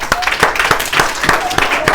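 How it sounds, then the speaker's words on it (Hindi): Students in a classroom clap together in a quick, even rhythm, loud and close, a short burst of steady beats. "बहुत बढ़िया, अपने लिए तालियां हो जाए।"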